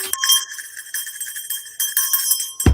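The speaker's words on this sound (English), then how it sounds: "There's enough bell for you right there." A small bell rings repeatedly in bright, clear jingling bursts with brief gaps between them, ending in a sudden low thump.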